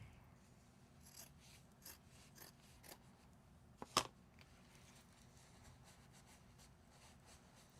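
Scissors snip through craft material trimming back scraps, a quiet sequence of soft regular cuts about once a second, with one sharper clack midway and no talking.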